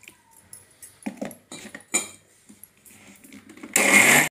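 A kitchen mixer grinder briefly whirs loudly at the end, grinding garlic, ginger and coriander into a spice paste, after a run of scattered clinks and clattering handling noises.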